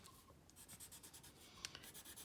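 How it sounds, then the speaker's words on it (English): An orange colored pencil scratches across paper while coloring a Charley Harper-style cardinal drawing, giving soft, steady back-and-forth strokes close up, with a couple of sharper taps near the end and no talking. "I'm gonna grab an orange colored pencil now."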